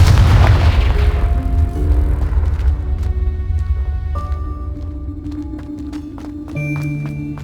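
The Confringo fire spell in Hogwarts Legacy bursts with a heavy, booming explosion at the start that rumbles and fades. Faint chiming tones and light footsteps follow, then another low impact near the end.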